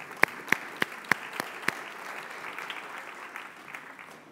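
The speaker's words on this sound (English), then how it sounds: "Let's give them a round of applause." Audience applause at a college convocation, opening with a few sharp nearby claps before settling into a brief, moderate ripple of clapping that fades.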